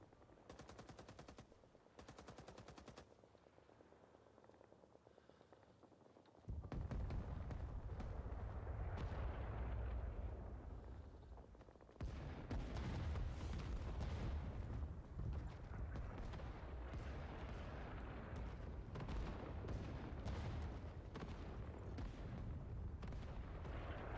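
An in-game artillery barrage rumbles in, heavy sustained booms and roaring blasts layered with rapid gunfire, loud and continuous after a quieter start.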